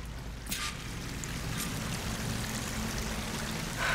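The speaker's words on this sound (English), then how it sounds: "That waterfall must be coming from somewhere." Rushing waterfall in the open-world game Horizon Forbidden West, a broad steady roar of falling water that holds constant and fills the scene, with no voices.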